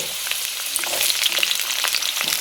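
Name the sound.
potatoes, matar dal, bay leaf frying in cumin tempering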